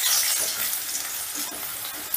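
Chopped garlic fries with chillies in a pan over low heat, a bright hissing sizzle with a few soft stirring scrapes, brief and close.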